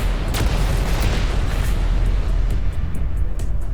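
Rocket explosions in the space shooter Everspace 2, a dense continuous roar of booming blasts with sharp bursts layered on top, loud and close with no talk.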